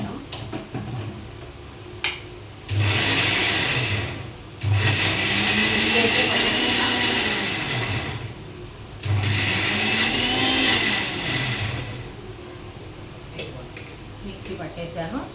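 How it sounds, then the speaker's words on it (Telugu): Mixer grinder blending a chutney of ridge gourd peel, running in three loud whirring bursts of a few seconds each, close up, with short pauses between them. "ఇప్పుడైతే మిక్సీ పట్టేద్దాం."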